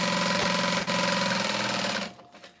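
Sewing machine stitching a backpack late at night, a fast steady mechanical whir with a brief hitch partway through, then stopping near the end.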